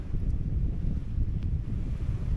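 Wind buffets the microphone in a steady low rumble, loud and continuous with no voices.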